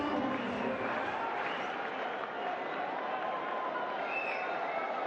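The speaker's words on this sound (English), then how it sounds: "Well, the crowd are loving this. They're having a good round of applause to it." Steady, dense applause from a cricket crowd at an Asia Cup match rolls on without a break, a broad continuous wash of clapping heard from a distance.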